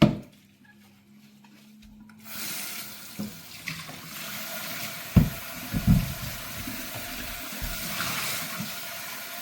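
Tap water runs into a glass jar as it is rinsed out after washing with soap, a steady hiss of flowing water with a few knocks and clunks of the jar being handled at the sink.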